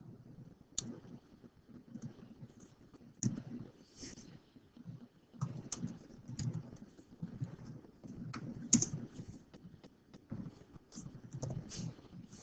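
Soft, irregular key taps on a calculator or computer keypad as numbers are entered, a quiet run of scattered clicks with short pauses and a faint background hum, no talking.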